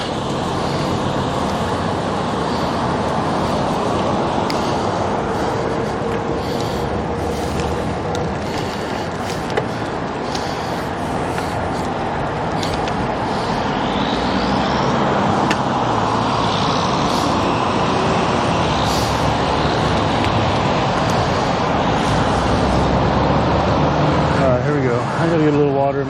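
Cars and traffic roll by on a road during a bike ride up a mountain, a steady broadband roar with wind rush lasting throughout, under occasional talk from the rider.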